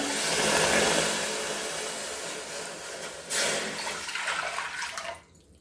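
Water pours into a cooking pot to be set on the stove to boil: a steady rushing stream that stops abruptly near the end, with no voices.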